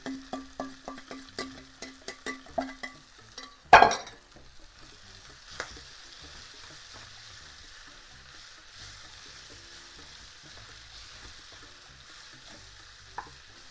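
Artisanal sausage is stirred and frying in a Le Creuset pan, giving a run of rhythmic scraping taps, one sharp clatter, then a soft steady sizzle with occasional faint knocks.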